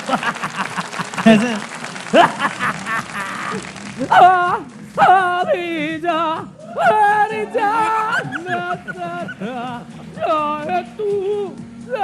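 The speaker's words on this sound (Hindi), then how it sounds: "भरपूर तालियां बजाएं" An audience applauds briefly at the start, then voices take over, talking and singing in a melodic, drawn-out way at an ICC T20 World Cup show.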